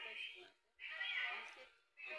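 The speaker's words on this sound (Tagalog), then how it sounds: "May nakita akong pusa, ayun oh, may pusa." A cat named Cindy gives three drawn-out, fairly loud meows close by, each a wavering cry with short pauses in between.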